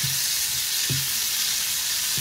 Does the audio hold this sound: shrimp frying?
yes